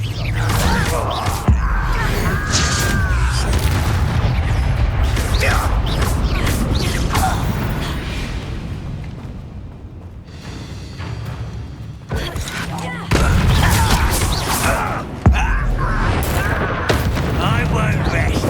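Explosive spell blasts and booming impacts from Hogwarts Legacy combat, loud and repeated in dense bursts, with a voice speaking over much of the fighting.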